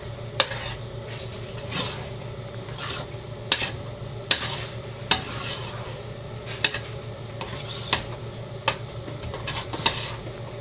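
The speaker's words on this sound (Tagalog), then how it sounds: "Haluin na ng haluin hanggang maluto yung yung nilagay kong cornstarch." A spoon scrapes and stirs a thick cornstarch maja blanca mixture in a pot, with irregular knocks and clinks against the metal over a low steady hum, close and unaccompanied by talk.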